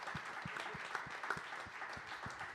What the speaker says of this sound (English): Can we get a round of applause for our amazing